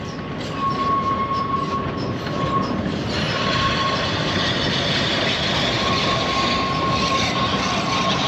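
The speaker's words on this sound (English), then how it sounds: "And here she comes, arriving in Kingswear station." Dartmouth steam train pulling into Kingswear station beside the river, a steady loud rolling rumble of carriages on rails with faint wheel squeal, heard alone without talk.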